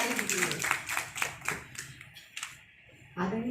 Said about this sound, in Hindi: जोरदार तालियां ममता कटारे दीदी है।